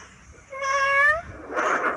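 A person's voice imitates a single cat meow, a close, clear, rising-and-falling call that lasts under a second, followed by a short burst of breathy noise.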